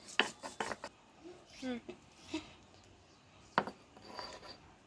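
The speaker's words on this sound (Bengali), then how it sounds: "এবার আমি পাতাগুলো বেটে নিচ্ছি" Leaves being ground into a paste on a traditional grinding stone, with intermittent raspy rubbing strokes and scrapes, fairly quiet and close, separated by short pauses.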